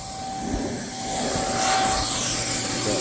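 An air blower drying a freshly washed car, blasting water out of the body channels with a steady, loud rushing whoosh that swells slightly partway through and continues without pause.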